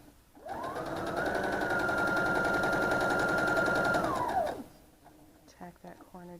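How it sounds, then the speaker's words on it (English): A sewing machine runs steadily for about four seconds, stitching around the edge of a pillow an eighth of an inch in, then stops, and a few faint handling clicks follow. "stitch all the way around at about 1/8 of an inch from the edge"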